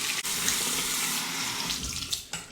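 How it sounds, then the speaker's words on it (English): Cold water running from a bathroom tap into a sink for rinsing the face after a shave, a steady close splashing stream broken by a few brief splashes. "Cold water rinse to the face."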